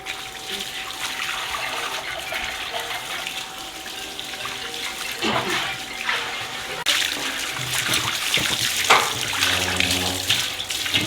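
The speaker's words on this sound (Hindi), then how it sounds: "अभी मैं देग अच्छे तरीके से धो लूँगी क्योंकि दोबारा मुझे इसमें चिकन भूननी है।" Water runs and splashes steadily while a large cooking pot, a degh, is rinsed and scrubbed, with scraping and sloshing surges nearby.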